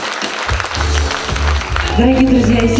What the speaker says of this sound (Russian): и сейчас под ваши бурные аплодисменты